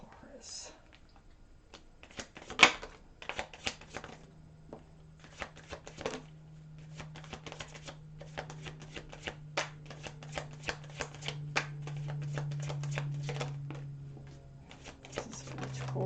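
Tarot cards shuffled by hand in repeated quick riffling bursts, crisp and close, under a low steady hum.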